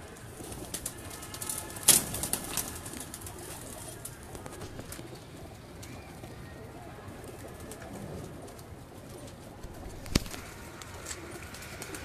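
Pigeons coo softly and continuously, close by, with two sharp bursts of wing flapping standing out against the low background.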